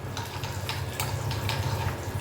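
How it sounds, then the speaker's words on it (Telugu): Mustard seed and spice tempering crackles in hot oil in a pan for bottle gourd curry, a steady near sizzle with faint scattered pops and no talk. "ఈ పోపు వేగిపోయిందండి"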